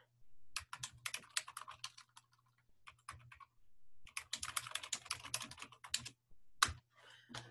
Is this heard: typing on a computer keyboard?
yes